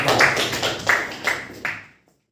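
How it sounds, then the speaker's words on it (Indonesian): A classroom of students claps for a student group, a short burst of applause with a few louder sharp claps before it quickly fades to silence. "Oke, tepuk tangan untuk kelompok"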